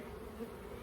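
Honey bees at an opened Langstroth hive make a faint, steady low hum, a soft continuous buzz with no voices over it.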